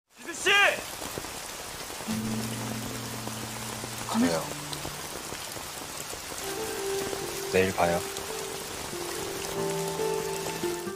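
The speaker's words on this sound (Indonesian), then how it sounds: "hujan pun turun dengan deras" Heavy rain pours down in a steady, dense hiss throughout, with soft sustained musical tones and a few brief voiced sounds layered faintly underneath.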